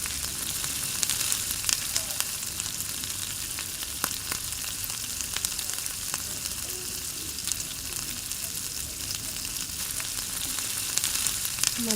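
Fish sizzles steadily in hot mustard oil in a wok, a dense, continuous frying crackle with scattered pops running close and loud throughout, no voices.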